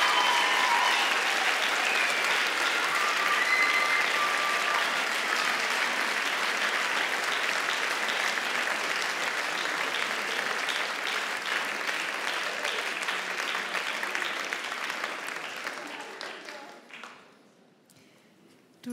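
Sustained audience applause for a Popstars contestant, a dense steady wash of clapping with some crowd noise that holds for most of the stretch, then thins and fades away near the end.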